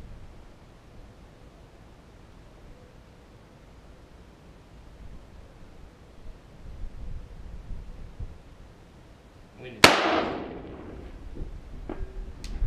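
A single sharp rifle report from a Kel-Tec RDB firing Tula 75 grain ammunition at a distant target cracks out near the end, following a long stretch of quiet outdoor wind, with a faint later echo or impact.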